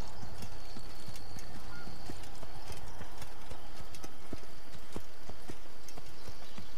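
Rapid, steady clip-clop of hooves from a horse being ridden in the video game Assassin's Creed, close and continuous over a busy background ambience.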